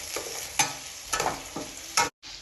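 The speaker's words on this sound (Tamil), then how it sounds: "பூண்டு, வெங்காயம் எல்லாத்தையும் போட்டு வதக்கிட்டு அப்புறம் 2 கொத்து கருவேப்பிலை இதெல்லாம் போட்டு நல்லா சாட்" Onions, garlic and curry leaves sauté in a pan for chicken curry, a soft sizzle broken by several scraping stirs of a spatula, close and steady, with a brief dropout near the end and no talking.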